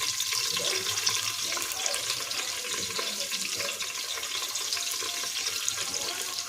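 Chopped onion and garlic fry in a pan for dal khichdi, a continuous bright hissing sizzle that stays even and fairly quiet, with no voices.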